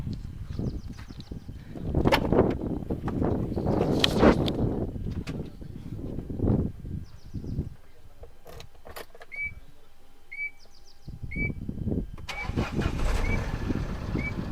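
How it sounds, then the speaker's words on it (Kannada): A used Tata car's engine cranks and catches, then settles into a steady idle under broad mechanical noise, with a few short electronic beeps near the end. "ಸ್ಟಾರ್ಟ್ ಮಾಡಿ ತೋರಿಸ್ಲಾ?"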